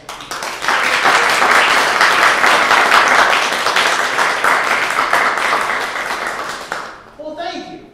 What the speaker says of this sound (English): Everyone, please give a warm round of applause for Nicole Cushing